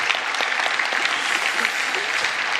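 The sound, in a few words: congregation applause in church service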